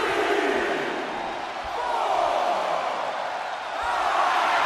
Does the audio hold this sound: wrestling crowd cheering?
yes